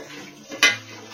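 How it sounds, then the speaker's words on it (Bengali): Lid lifted off a cooking pot of boiled eggs, one short metallic clank standing out briefly against quiet kitchen background. "এবার দেখি তো একটু ঢাকাটা খুলে"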